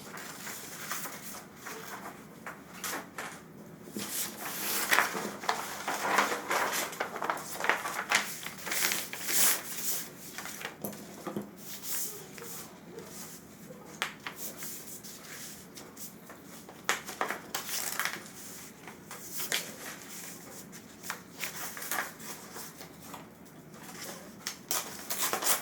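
Scissors cutting the back of cloth ladies' low-waist pants, heard as soft, close snipping and fabric rustling. The sounds are faint and irregular over a quiet room.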